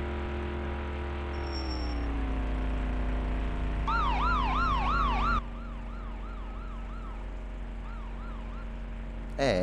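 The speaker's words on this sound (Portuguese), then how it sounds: "essa sirene não é do Brasil" A non-Brazilian-style police siren in an open-world video game wails over a low engine rumble, starting with a rising tone and shifting into rapid warbling cycles that continue steadily.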